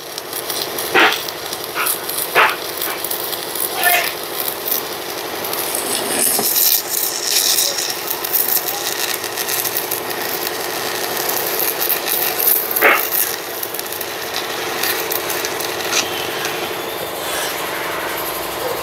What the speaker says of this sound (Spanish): Aquí estamos aplicando soldadura a todo alrededor.